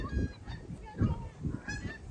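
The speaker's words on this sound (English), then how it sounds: "This is famous Canadian geese." Canada geese honking at a waterfront in Hamilton, Ontario, several close, loud nasal honks in an irregular series over about two seconds, with no talking.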